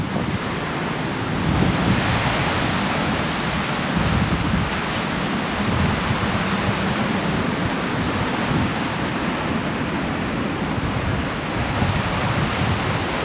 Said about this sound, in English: This is the creek that runs right behind the boatyard